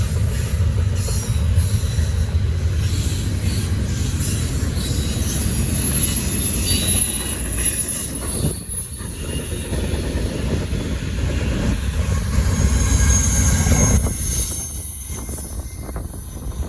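Norfolk Southern NS 975 freight train with 911 leading and DPU locomotives working hard, a loud continuous rumble of engines and rolling cars with squealing wheels, steady throughout and close by.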